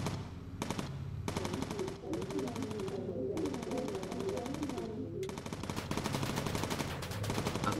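Machine gun fire from an enemy fighter in Bomber Crew rattles in long rapid bursts separated by brief pauses, loud and close, over a steady aircraft engine drone.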